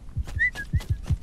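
Short whistled notes slide up and down in the Hound Automaton video game, set over rhythmic low thuds and scuffles in quick succession.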